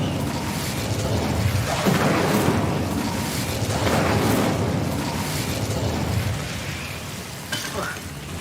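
Incendio fire spell cast in Hogwarts Legacy, a broad roaring burst of flame and crackling rumble that swells and fades in waves over several seconds, with the game's ambient sound underneath.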